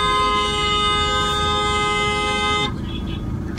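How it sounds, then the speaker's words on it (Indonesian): Car horn sounding in congested traffic, one long, loud, steady honk held for about two and a half seconds before it cuts off and leaves road noise. "Klakson nggak jelas."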